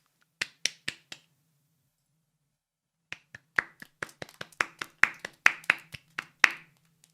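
Sparse, scattered clapping from a few hands in the video game Steins;Gate, a brief burst, a pause, then a longer run of uneven claps.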